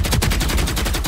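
Rapid automatic gunfire from a shooter video game rattles out in a loud, continuous burst of closely spaced shots, close and filling the whole moment.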